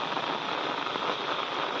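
Heavy rain pours down in a village, a dense, steady hiss of drops striking surfaces, loud and unbroken throughout with no voices.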